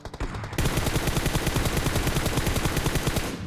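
Sustained automatic gunfire in a battle royale video game, a loud, rapid and steady stream of shots lasting several seconds, with no talking.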